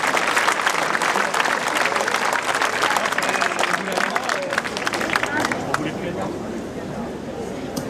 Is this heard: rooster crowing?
no